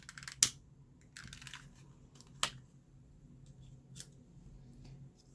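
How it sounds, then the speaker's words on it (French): Scissors snip ribbon while making a scrapbook card, a few short, crisp, quiet cuts spaced apart, with faint rustling between them in a quiet room. "Je vais recouper un petit peu mon ruban"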